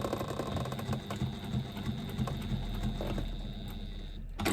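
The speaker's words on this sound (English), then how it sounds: "So that's the top stitching on all of the top ones." A sewing machine runs steadily, top stitching a small twist pouch with a decorated front, its rapid mechanical chatter continuous and close before cutting off near the end.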